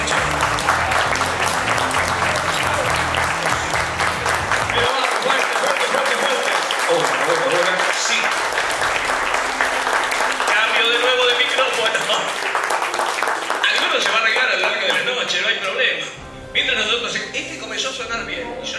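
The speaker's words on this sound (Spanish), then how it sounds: "Quiero que le demos un fuerte aplauso a todos ustedes por estar aquí esta noche." A large audience at an awards night applauds continuously, dense clapping that swells and holds for many seconds, with some cheering mixed in, fading briefly near the end.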